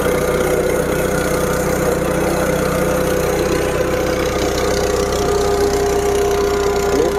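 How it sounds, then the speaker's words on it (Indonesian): A small standard engine on a chopper machine idles steadily and loudly, a continuous close-up drone with a faint knocking rhythm and no talk over it. "Ini kita nyalakan dulu teman-teman, kita nyalakan dulu mesinnya"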